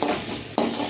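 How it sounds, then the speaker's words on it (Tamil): Crumbled idli is stirred in a hot kadai with tomato, mint and coriander to make upma, giving a continuous scraping, sizzling stir with one sharper scrape midway, close and loud with no talking. "இட்லியை இந்த மாதிரி கடாயில் போட்டு திரட்டுங்க"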